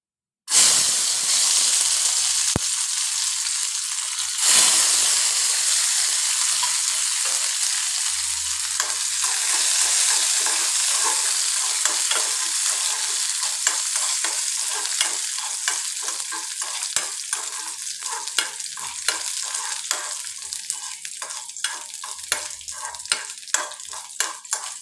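Washed cashew nuts and raisins fry loudly in a pan for wheat payasam, a constant close hiss and sizzle broken by frequent scraping stirs, with no talking.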